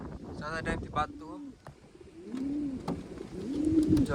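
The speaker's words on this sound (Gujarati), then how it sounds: "જો મજા કર કબૂતર બેઠું છે આમાં અંદર." Pigeon cooing, a coo-like call from a bird sitting inside a box or enclosure, repeated several times fairly close and clear, rising toward the end, with a person's voice talking over the start.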